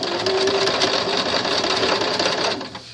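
Sewing machine running steadily as it back-stitches a small fabric ribbon banner for bunting, a continuous close mechanical whir for about two and a half seconds, then slowing and stopping.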